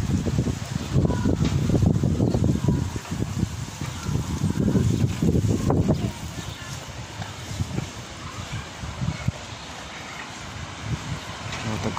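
Gusty wind rumbles through a park in Sumgayit's 9th microrazyon, loud in the first half, then easing to a softer steady rush, with a voice speaking over it early on.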